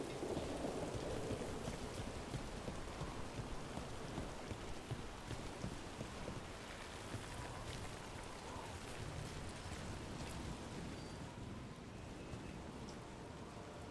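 Steady rain in the video game Dragon Age: The Veilguard hisses and patters continuously, a dense wash of drops with a faint low rumble beneath, no voices.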